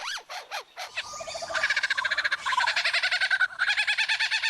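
Lyrebird mimicking a kookaburra call, a few sharp rising-falling notes leading into a loud, rapid, cackling rhythmic chatter that fills the rest of the phrase, clear and close.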